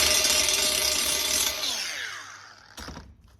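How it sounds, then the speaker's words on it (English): An angle grinder cuts off wheel studs on a Jeep rim, giving a harsh metallic whine that winds down as the disc slows, then a short clank of metal at the end. "So I'm going to have to cut these studs off, grind them off from the other side"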